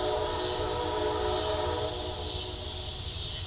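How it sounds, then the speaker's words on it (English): A train rumbles past nearby in a steady, continuous roar with a low droning hum and layered tonal whine, filling the whole stretch at an even level without speech. "hang on, we're just going to vibe with the train"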